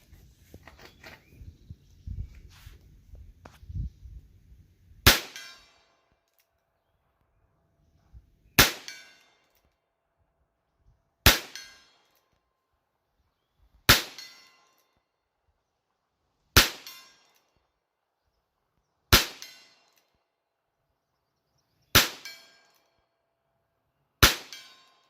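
Shots from an H&R 949 Forty Niner .22lr revolver are fired at a target 100 yards away. Eight sharp, evenly spaced cracks come every few seconds after some quiet handling noise, loud and close with no talking.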